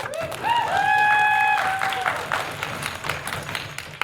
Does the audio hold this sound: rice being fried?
no